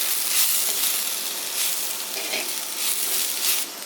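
Ingredients for a tapioca, plantain and chilly fish curry frying in a pan while being stirred, giving a loud, steady sizzle with soft scraping surges throughout and no talk.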